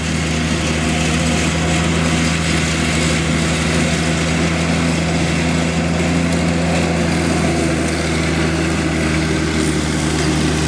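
A worn riding lawn mower engine runs steadily at a constant, loud drone throughout, with no voices present.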